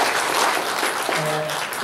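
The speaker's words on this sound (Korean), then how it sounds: "우리 찬양팀 그리고 반주팀 그리고 김진석 집사님 박수 한번 해드리겠습니다" A church congregation at a Full Gospel service applauds the worship and accompaniment team, a brief, full wash of clapping with a faint voice underneath near the end.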